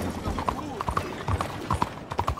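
Horse hooves clip-clop at a walking pace in Red Dead Redemption 2, a run of evenly spaced knocks close by, with a voice speaking over them.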